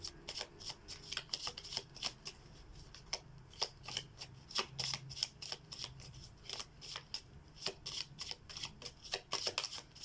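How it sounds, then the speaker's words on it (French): Tarot cards being shuffled by hand, a quiet, close run of repeated crisp riffling snaps in an irregular rhythm, with no talk. "Je vais laisser sortir les cartes."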